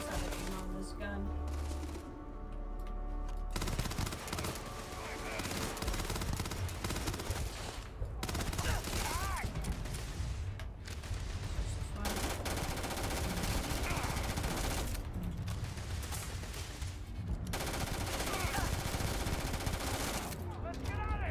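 Rapid gunfire from a weapon in the video game Starfield rattles in dense sustained bursts for most of the stretch, broken by a few short pauses, loud and close.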